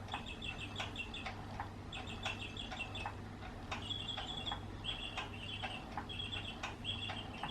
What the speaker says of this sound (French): Les petits oiseaux.